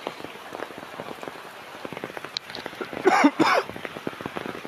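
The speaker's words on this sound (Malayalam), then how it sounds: "അതിശക്തമായ മഴയാണ് ഇപ്പോൾ." Heavy rain pours near the banks of the Kallada river at Puthur, a close, continuous patter of drops, briefly broken by a throat-clearing cough partway through.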